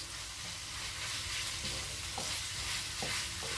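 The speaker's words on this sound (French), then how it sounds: "Voilà, on remue." Chicken pastilla filling being stirred in a frying pan, a continuous close sizzle with a few soft scrapes of the spoon, no voices.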